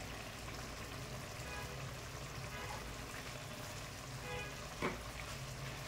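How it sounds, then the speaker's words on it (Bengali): Palak paneer with ghee and garam masala being stirred in a pan, a soft steady sizzle and bubbling with faint spoon scrapes and one small clink near the end, quiet and free of talk. "আবারও কিছুক্ষণ নাড়াচাড়া করে দেব, যাতে ঘি গরম মশলা ভালো করে মিশে যায়।"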